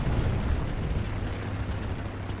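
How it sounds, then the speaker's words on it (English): A Sherman Jumbo tank exploding nearby in War Thunder: a loud, continuous rumbling blast with deep low-end roar throughout, no voices. "the Sherman jumbo that was sat behind me just exploded"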